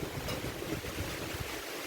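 Strong typhoon wind from Typhoon Kristen, a steady roaring rush of gusting air that buffets the microphone, loud and continuous with no voices.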